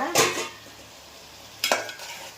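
Broad beans sautéing in oil, two short scraping strokes of a spatula against the pan over a low background sizzle, close by with no talking.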